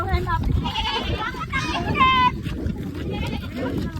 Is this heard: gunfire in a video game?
no